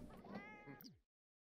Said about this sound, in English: What are the cats doing?